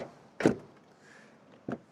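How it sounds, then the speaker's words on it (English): Two solid thuds of a Toyota Aygo X Hybrid's light car door shutting, the first firm and close, the second a softer, shorter thunk about a second later, in a quiet setting. "And then door closing sound already."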